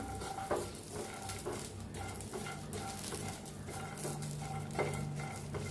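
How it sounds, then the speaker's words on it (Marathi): Garlic and chili are dry-roasted in a pan on a gas stove. A steady crackling sizzle runs throughout, with occasional scrapes and stirring taps, close-up and without talking. "टाकूया लसूण मोडून त्याचा तुकडा ते बी भाजून घेऊया"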